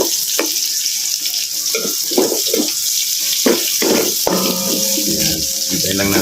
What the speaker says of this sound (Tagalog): Hintayin lang natin siya ma-golden brown ng konti yung sibuyas natin.